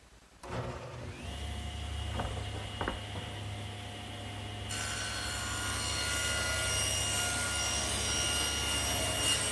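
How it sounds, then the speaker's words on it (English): Table saw ripping a glued-up wooden hutch top to width in a home workshop, the blade spinning up then holding a steady loud whine as it cuts through the wood, with a brighter edge joining partway through. "Now I need to rip the top to width, and that'll be 18 1/4."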